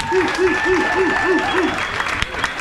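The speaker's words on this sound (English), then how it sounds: "let's give it another round of applause for the man of the hour" Audience applause at a comedy roast, steady and close, with speech-like tonal lines and voices running through the clapping.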